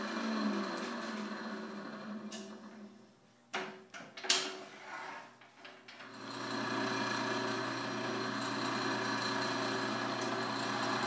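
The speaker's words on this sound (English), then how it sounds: "I'm just using a square end scraper that I've actually ground on the side" A square end scraper, ground on the side, cuts a natural edge wood bowl as it spins on a lathe, making a steady scraping whir under the motor's hum, broken by a few knocks and a pause midway.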